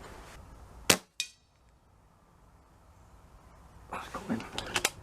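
A spring air rifle with an adjusted hammer spring fires a single sharp crack on a farm field test, followed by a second impact-like click, then quiet outdoor ambience and some rustling near the end.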